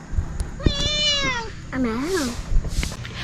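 Close cat meows at a private resort in Antipolo: a long drawn-out meow followed by a shorter wavering one, with brief people's voices and handling noise around them.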